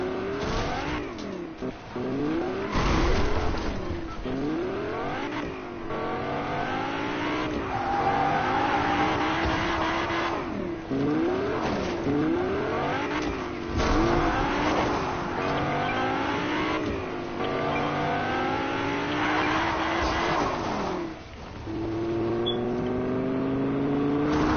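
Car engines in a video game rev and accelerate repeatedly, with rising and falling pitch sweeps as vehicles speed up and shift, loud and continuous over about twenty seconds with occasional tire noise.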